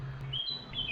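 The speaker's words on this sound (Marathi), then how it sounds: "पक्ष्यांचा आवाज सोडला तर आपल्या चालण्याचा आवाज आपल्याला ऐकू येतो एवढी शांतता होती।" Birds chirp near the Tushita meditation centre in Dharamkot, with short high tweets over a quiet outdoor background and a low steady hum early on.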